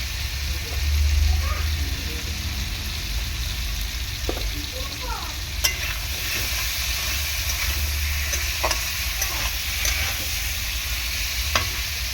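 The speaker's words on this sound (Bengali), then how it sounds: "আলুটা 2 মিনিট ধরে কষিয়ে নেবো, একটু লবণ দিয়ে দেবো হালকা করে।" Potatoes sautéing with a pinch of salt in a pan, a steady close sizzle broken by occasional scraping stirs and light clatters, with a low rumble near the start.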